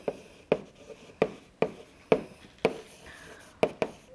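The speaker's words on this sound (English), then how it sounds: "So let me write that." Math notes for a course on Riemann theta functions are written out by hand in a steady series of short, close strokes and taps, about two per second, with no talk.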